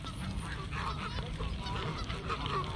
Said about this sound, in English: Time to feed the ducks, guys.